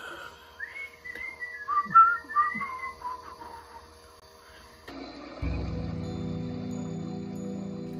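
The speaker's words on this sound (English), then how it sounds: "I could whistle." A person whistles a wavering tune for a few seconds, then it stops and a steady low mechanical hum and clatter of a motorized model mill wheel starts up.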